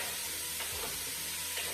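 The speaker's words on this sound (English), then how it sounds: "You guys hear it sizzling over there." Ground beef and onions browning in a chili pot give a steady, close sizzle and crackle, with faint stirring scrapes and no talking over it.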